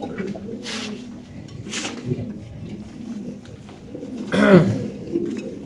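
Lahori pigeons at a large fancy pigeon farm give low, soft coos in short bursts, with one louder coo near the end, over faint background voices and farm noise.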